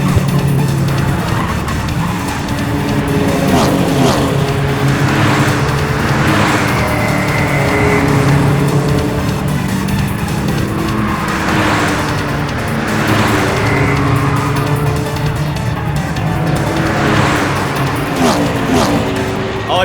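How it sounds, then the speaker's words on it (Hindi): Race cars speed along a circuit during a car race, engines roaring steadily with repeated rising passes and tire noise, a commentator's voice talking over them throughout. "और ये देखिए, गाड़ी नंबर 5 सबसे आगे जाते हुए से चला रहे हैं डोमिनिक डिसूजा"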